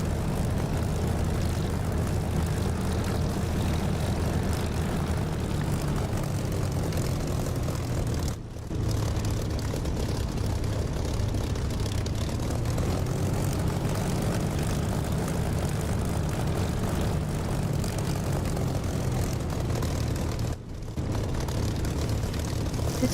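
A Spitfire's propeller engine drones steadily in the DCS flight simulator, a loud continuous close-up roar that holds for the whole stretch, cutting out twice for a split second.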